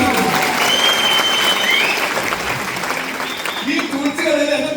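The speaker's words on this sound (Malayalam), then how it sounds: "ഹലോ, കയ്യടി തരുവാണെങ്കിൽ" Sustained audience applause filling a hall during a Malayalam stage talk, dense and steady from start to finish, with a few voices and whistles poking through the clapping.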